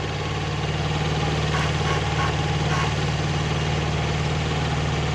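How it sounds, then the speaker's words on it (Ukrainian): A small Kubota B5001 two-cylinder tractor engine idles steadily and close by, a low, even chugging rumble with a faint rattle, continuous throughout with no voices. "Кубота у нас маленький трактор."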